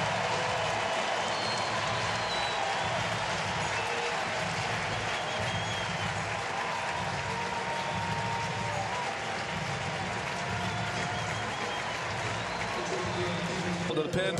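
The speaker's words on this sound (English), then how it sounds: "And listen to this crowd" A playoff baseball stadium crowd applauding departing pitcher Adam Wainwright, a sustained roar of clapping and cheering that fills the whole scene, with a voice talking over it.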